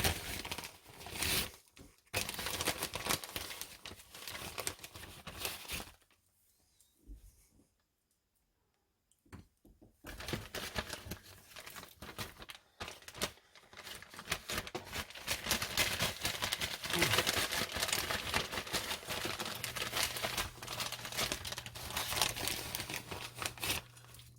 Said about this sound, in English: I'm going to place them in the bag, shake it up a little bit, and do a few at a time just to get them coated.